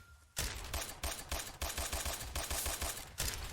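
Rapid bursts of gunfire from the online battle royale game Surviv.io during a clan war match, with loud repeated shots in quick uneven volleys lasting throughout, no talk over them.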